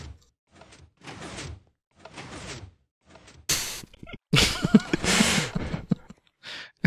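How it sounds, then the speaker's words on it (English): Doors in Minecraft opening and closing, a sequence of clunky, close wooden creaks and thuds repeating in uneven bursts separated by short silences. "These doors can be a little bit annoying if they go out of sync."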